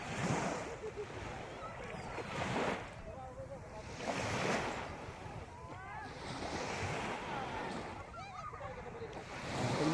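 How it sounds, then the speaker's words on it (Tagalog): Ocean waves roll and wash onto a beach in steady surges, mixed with gusty wind buffeting the microphone, while a person talks over the surf. "Yan po ang ganda ng dagat."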